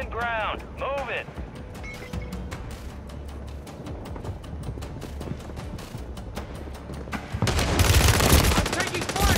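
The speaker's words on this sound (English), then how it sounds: "I'm taking fire." Enemy gunfire in a loot-grab shooter video game, dense bursts and rapid shots running throughout, growing heavier and louder near the end, with voices talking briefly at the start.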